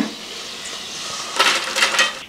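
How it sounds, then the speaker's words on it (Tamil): Dried vathal fries in hot oil for idli podi, a soft crackling sizzle that swells into brighter bursts of popping and bubbling toward the end. "இந்த அளவுக்கு நல்லா செவக்கிற வரைக்கும் எண்ணெயில் பொரிச்சு எடுத்துக்கலாங்க."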